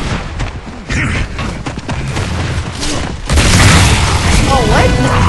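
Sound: boomshot explosion in Gears of War video game

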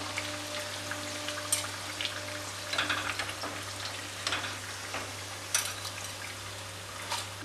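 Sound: deep-frying potato-filled snacks in oil

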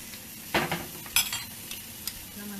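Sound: food frying in butter with added oil

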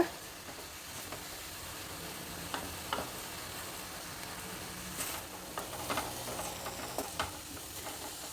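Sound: fenugreek leaves frying in oil on high flame

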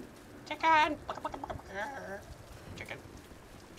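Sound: chicken clucking in the video game Tomb Raider

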